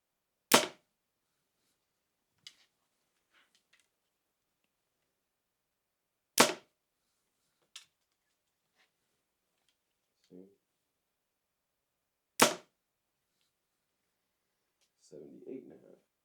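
A 2026 Elite Victra hunting bow fires three loud, sharp shots about six seconds apart, each a crisp snap with a quick decay. Faint clicks and a brief low thud fall between the shots, with a short murmur near the end.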